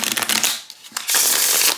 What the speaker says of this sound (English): it does totally still riffle shuffle, which is wonderful